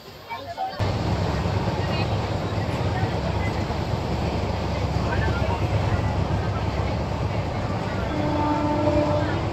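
The Visakhapatnam–Kirandul passenger special train is running, heard from on board as a loud, continuous rumble and rattle of wheels on rails that holds steady throughout.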